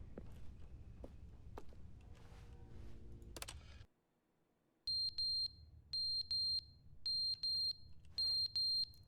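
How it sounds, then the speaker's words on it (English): In the video game The Stanley Parable, a smoke alarm chirps in sharp, high, evenly spaced double beeps, five clusters in a row after a moment of silence that follows busy rustling and clicking. "The smoke alarm!"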